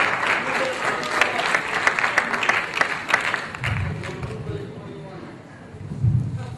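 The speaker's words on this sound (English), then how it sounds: "Give them a nice round of applause." Students in a campus class give a round of applause, heard as a burst of crowd clapping over the first few seconds, fading out as a voice talks over the tail.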